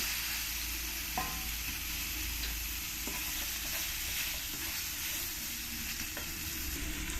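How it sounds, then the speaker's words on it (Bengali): Cut potatoes fry in hot oil with a steady, dense sizzle that stays even throughout, close and moderately loud, with a few soft stirring knocks and no voices. "এই তেলের মধ্যে আমি যে আলুগুলো কেটে রেখেছি এই আলুগুলো ভালো করে একটু ফ্রাই করে নেব"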